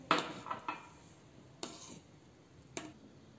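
A spoon scrapes and clinks in a pan of reduced milk with almond pieces while making Shahi Tukda, giving a few scattered, faint metallic knocks against a quiet background.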